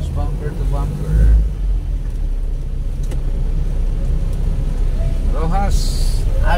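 Steady road traffic on Rojas Avenue in Iligan City, almost bumper to bumper, with a continuous low rumble of car and bus engines close by and a brief louder engine swell, while people talk over it.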